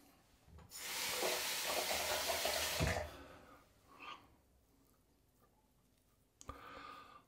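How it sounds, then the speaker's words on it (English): Water rinses over leather in a steady rushing wash for about two seconds, followed by a few faint scrapes and a sharp knock near the end. "The leather rinses off very easily."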